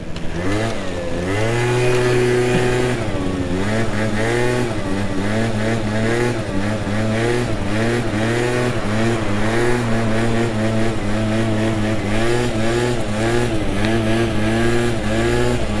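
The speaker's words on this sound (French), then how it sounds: "Et on va essayer de faire un petit wheeling" A Yamaha 85 SX stunt motorcycle's two-stroke engine revs repeatedly in rising, rhythmic bursts, loud and close throughout with no talking.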